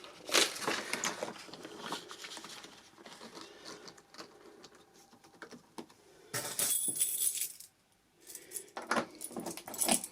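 Keycaps being pressed back onto a shop till keyboard, a run of quick plastic clicks and taps, close and moderately loud, with a short pause before more clicking.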